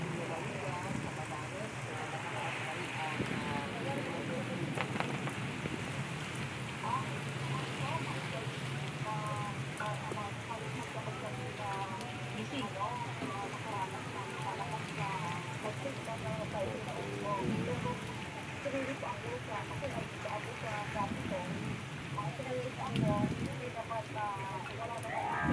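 Heavy rain pours steadily during Typhoon Mangkhut (Ompong) in Marilao, Bulacan, amid flooding, a constant dense hiss filling the scene while people talk nearby.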